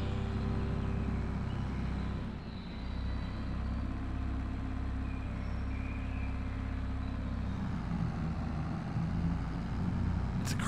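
Small 1990s farm tractor in Farming Simulator 22 driving in top gear, a steady low diesel drone that stays close and constant for about ten seconds, with no one talking.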